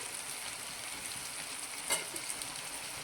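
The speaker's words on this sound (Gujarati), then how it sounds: "આપણા બટેટા પંદર ટકા જેટલા તળી ગયા છે હવે આપણે એમાં મસાલા કરી લઈશું" Potatoes frying with spices in a pan produce a soft, steady sizzle at low level, with one brief stir or clink partway through.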